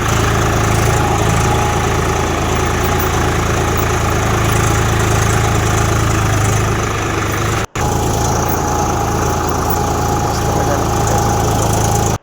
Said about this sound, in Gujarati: જોઈ લો આપણા અંકલનું ટ્રેક્ટર શેડે છે